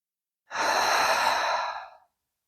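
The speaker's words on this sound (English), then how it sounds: "take a full, deep, conscious breath. And exhale." One long, deep breath drawn in and let out slowly during a mindfulness meditation, close and clear, a smooth airy rush rising and fading over about a second and a half with silence around it.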